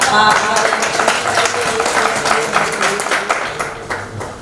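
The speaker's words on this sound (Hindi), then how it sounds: "एक बार जोरदार तालियां" Applause from the audience at a mushaira in a marriage hall in Bansi, Siddharthnagar: dense, steady clapping from a crowd, loud and close, continuing throughout with some fluctuation and a slight fade toward the end.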